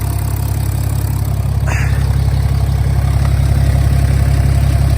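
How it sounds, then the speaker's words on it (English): A BMW N57 3.0-litre diesel in a 330d, just restarted after a timing chain job with the exhaust still off, idles with a steady, loud low rumble and rapid diesel clatter throughout. "So we've got it all fired up, running okay at the moment."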